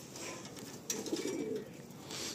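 Madrasi pigeons in a loft with young birds coo softly in a faint low burble that swells in the middle, over a hissy background with a sharp click.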